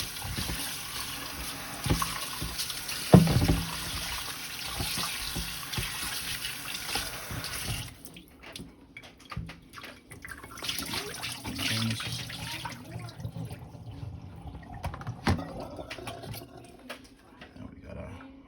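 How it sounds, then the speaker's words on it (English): Cold tap water runs over food in a kitchen sink, a steady hiss and trickle that fades partway through, with intermittent clatter and brief talk. "Now maybe we're gonna run it under some cold water."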